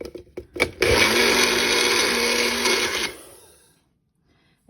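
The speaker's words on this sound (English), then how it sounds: "it takes a little bit longer in the blender for the tomato to get ground up" A countertop blender grinds tomato and basil for raw seed crackers in a loud, steady whir lasting a few seconds, preceded by a few clunks and ending as it spins down into quiet.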